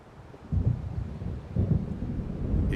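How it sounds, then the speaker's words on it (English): Thunder from an approaching storm in the video game Alan Wake Remastered rolls low and heavy, two deep rumbling swells over steady rain-like noise, with no talking. "It seems there's a storm coming."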